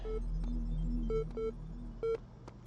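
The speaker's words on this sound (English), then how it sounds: "More beep boops." Short electronic beeps and boops from The Talos Principle video game chirp at a moderate pace over a low steady hum, some brief tones rising in pitch, fairly quiet overall.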